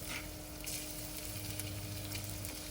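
Ginger, garlic and galangal sizzling in a pan for Thai curry, a steady, faint hiss of frying with a few soft stirring sounds.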